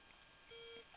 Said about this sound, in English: We've got a nice beep